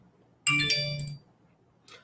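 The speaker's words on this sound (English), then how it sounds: "I never get text messages, and of course I get them now." Text message notification tone on a phone, a single bright chiming alert lasting under a second, fairly clear and alone, followed by a faint short sound.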